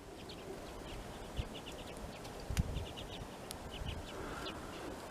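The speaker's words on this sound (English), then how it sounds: "birds on my antennas." Birds perched on outdoor ham radio antennas give scattered short calls and chirps, faint and somewhat distant, over steady wind and outdoor background noise, with a couple of soft thumps.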